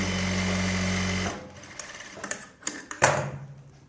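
A sewing machine runs a quick rough stitch along a folded blouse fabric edge, whirring steadily for just over a second before stopping, followed by light clicks and handling taps.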